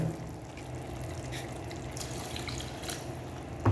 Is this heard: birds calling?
no